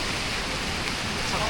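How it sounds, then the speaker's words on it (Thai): Steady broadband hiss of rain beginning to fall across a house construction site, continuous and fairly loud, with faint voices in the background. "ฝนมาแล้ว"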